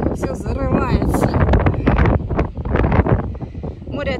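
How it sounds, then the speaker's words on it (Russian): Strong gusty wind on Iztuzu beach in Dalyan, Turkey, buffets the microphone in loud, uneven bursts, with people talking underneath the roar. "Тут такой ветер, что мигом заносит."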